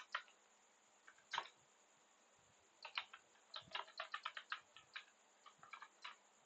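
Computer keyboard typing in short, quiet bursts of crisp key clicks, with irregular pauses and a denser run of taps toward the end, no voices.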